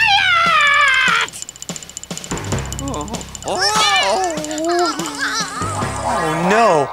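Voices sing a playful run of meows, imitating a cat, over a bouncy tune with childlike vocal sounds mixed in.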